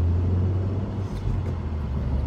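Steady low engine rumble inside a 2019 Honda Civic Type R on a test drive in comfort mode, loud and continuous with road noise and no talk.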